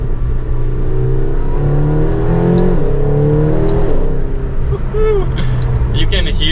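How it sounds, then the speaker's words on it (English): A McLaren GT sports car's exhaust and engine rise loudly and continuously as it accelerates on a track, with rising pitch sweeps and steady close-up engine drone throughout. "let's listen to that exhaust again here"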